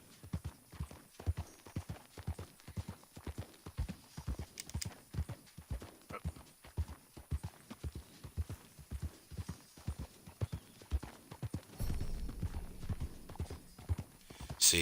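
Horse hooves clip-clop in a steady, even gallop rhythm as a rider travels in the video game Red Dead Redemption 2, close and continuous, with a brief burst of rougher noise late on.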